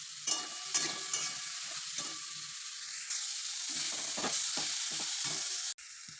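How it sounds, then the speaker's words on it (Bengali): Sliced ridge gourd frying in a pan, a steady close sizzle with repeated sharp crackles and spatters as pieces are stirred and turned, no voices. "ঝিঙেগুলো অল্প করে ভেজে নেব"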